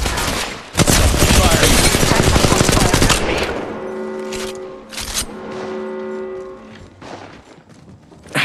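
Sustained automatic gunfire rattles loudly for several seconds in an Apex Legends Mobile battle, then gives way to sparse shots, tonal game cues and brief voice lines.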